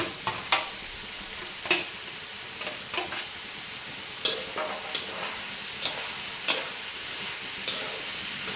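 Rice being stir-fried in a pan with sliced shallots and chili, giving a steady sizzle broken by repeated scraping spatula strokes at an uneven rhythm, close and fairly quiet.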